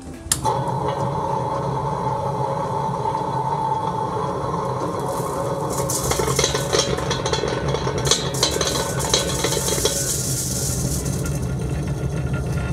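A stone grinder grinding cocoa nibs for vegan milk chocolate: a continuous mechanical grinding hum with rolling, scraping texture, growing busier and brighter partway through as material is added.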